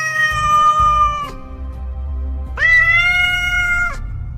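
A cat meows twice, each a long, loud, drawn-out wail with a pause between, close and clear.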